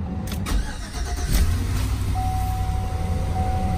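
A Chevy Avalanche truck with a cylinder 3 misfire idles at cold start, a steady low engine rumble close by, with a brief rise in level near the start and a thin whine above it later.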